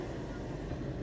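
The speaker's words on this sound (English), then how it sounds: "There's the train." A train passes outside, heard indoors as a steady, low, muffled rumble with no break across the short moment.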